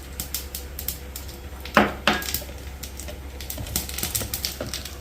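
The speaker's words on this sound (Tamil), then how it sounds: "இங்கே கடுகு, ஜீரகம் நல்லா பொரியறது" Mustard seeds and cumin sputter in hot oil as a tempering for dal, giving scattered sharp pops and crackles, with two louder bursts near the middle over a low steady hum.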